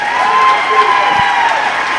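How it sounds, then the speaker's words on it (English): A Burbank home crowd at a volleyball match gives its team a standing ovation, steady loud applause and cheering filling the gym without pause. "Burbank crowd giving their team a standing ovation for a great season"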